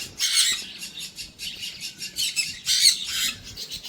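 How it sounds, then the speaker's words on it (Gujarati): A parrot squawks in repeated harsh, bright bursts at a bird enclosure at Kuldevi Umiya Mataji temple in Sidsar, Jamnagar district, with other birds faintly chirping behind the calls. "પોપટ બોલે છે"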